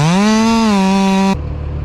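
A chainsaw ported by Redbeard Saws of Minnesota screams at a high, steady pitch close by, then cuts sharply down to a rough, lower idle.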